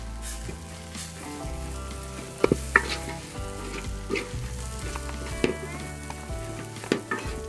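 Kerala-style pork curry stirred in a pan, a continuous sizzle with rhythmic scraping and knocking of a spoon against the metal, some louder clanks midway, no talking.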